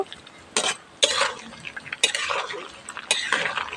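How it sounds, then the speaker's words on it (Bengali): Fish roe fries in foaming mustard oil in a pan, with four loud bursts of spatula scraping and stirring breaking over a low background sizzle. "এটাকেও লালচে করে ভেজে নিচ্ছি এই সর্ষের তেল এবং মাছের ডিম"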